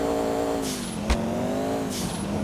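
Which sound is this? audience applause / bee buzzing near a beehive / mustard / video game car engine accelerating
video game car engine accelerating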